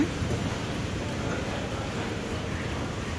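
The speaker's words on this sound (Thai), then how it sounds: "ฝนตกด้วยทุกคน" Rain falling on the dome roof over a Thai street food market, heard from inside: a steady, dense hiss that stays even throughout, with no talking.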